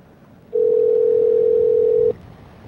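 A telephone dial tone on a call to a McDonald's sounds as one steady, loud, unbroken hum of about a second and a half, starting and stopping sharply over faint line hiss.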